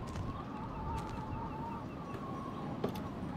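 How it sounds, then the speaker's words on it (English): Seagulls in the Life Is Strange video game give repeated honking, squawking calls over a steady wind-like background, moderately loud and continuous throughout. "A seagull! And there's a few seagulls."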